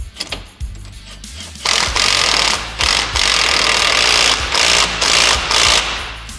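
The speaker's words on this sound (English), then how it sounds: "I found it's much easier to use an impact" An impact wrench with a 19 mm socket tightens a nut while installing a rack and pinion on a Polaris RZR XP 1000, sounding as several loud, close bursts of rattling hammering separated by short pauses.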